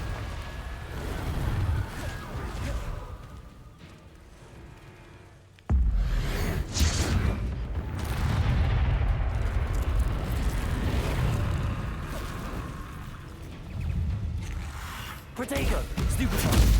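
Confringo blasting spell explosions go off in a Hogwarts Legacy duel, a sudden loud burst followed by sustained rumbling combat noise and whooshes, with talk over the fighting.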